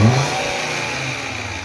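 A 2013 Volkswagen Jetta engine with throttle body faults P0121 and P0221 revs up under acceleration, a brief close mid-pitched surge that rises and then holds at a steady higher drone.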